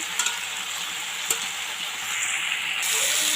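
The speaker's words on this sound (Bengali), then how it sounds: "তো সবজি ভাজা চলছে" Pumpkin stem vegetables frying in a pan with salt, giving a soft, steady sizzle with a few sharp spatula taps and stirring scrapes, heard up close without talk.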